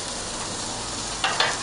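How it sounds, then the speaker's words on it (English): Buffalo mini-burgers frying in a pan give a steady, close sizzle, with two brief bursts of sharper crackling near the end. "Michelle's just going to cook them burgers for us"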